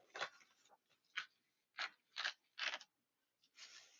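Tearing off part of a yellow cardstock sheet gives a series of short, crisp ripping bursts in an irregular rhythm, about seven quick tears close to the microphone with quiet gaps between them.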